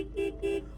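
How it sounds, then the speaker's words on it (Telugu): A vehicle horn gives two short, close toots in quick succession over a low idling hum. "హారన్ అది"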